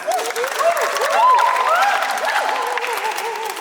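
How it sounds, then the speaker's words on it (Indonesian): Classroom audience applauding during a university teaching session, a steady burst of hand clapping lasting several seconds, with a voice briefly speaking over it. "Terima kasih, tepuk tangan."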